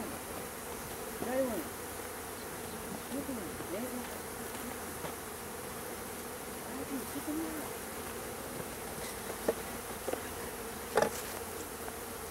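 Honey bees buzz and fan steadily inside a newly installed hive. The hum is dense and continuous, with a few brief louder passes close by and no talking.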